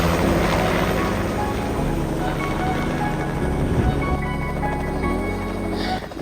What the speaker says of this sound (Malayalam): അപ്പോൾ നമ്മൾ ഇവിടെ നിന്നാണ് ഹെലികോപ്റ്റർ റൈഡ് സ്റ്റാർട്ട് ചെയ്യുന്നത്.